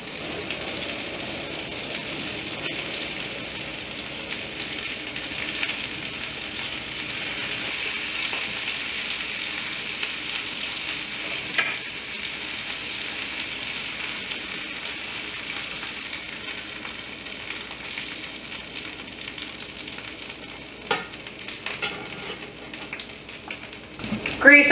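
Hot grease sizzles steadily during frying for fish tacos, a low continuous hiss scattered with small pops and spatters that grow sharper near the end.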